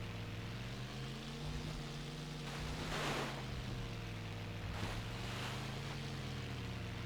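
A steady droning car engine in the Dreamcast off-road racing game 4x4 Evolution, a continuous hum with shifting pitch that rises and falls smoothly, heard alone.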